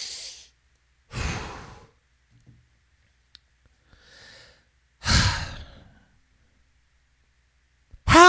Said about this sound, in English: let's take a collective breath for a minute